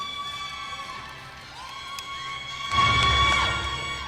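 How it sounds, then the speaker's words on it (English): A crowd cheers and shouts in a large gym at a high school boys' basketball game, distant at first and then swelling louder toward the end, with squeaky whistles over the noise. "Hear all that cheering in the background?"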